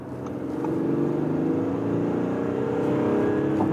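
A premium sedan with a petrol engine accelerates hard in S mode from 65 to 100, the engine note climbing steadily and loudly as tire and wind noise build.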